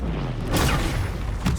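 Fire spell explosion from Confringo in Hogwarts Legacy, a dull booming burst around the middle with a second fainter thump near the end, over a low rumbling game backdrop.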